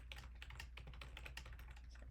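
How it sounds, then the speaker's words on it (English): Steady rapid typing on a computer keyboard, close and fairly quiet, with dense irregular key clicks running continuously over a low background hum and no talking. "Ooh, struggling with typing today."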